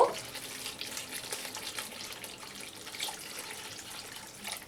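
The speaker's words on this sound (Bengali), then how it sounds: "এবার আমি পরিমাণ মতন জল দিয়ে দেব।" Water being poured into a pan of Katla fish kalia curry: a steady, fairly soft splashing pour lasting several seconds, close by, with no talking.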